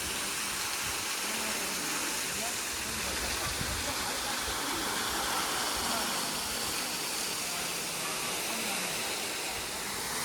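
Kailasakona waterfall pouring down, a continuous, even rushing hiss of falling water filling the scene at a steady moderate level.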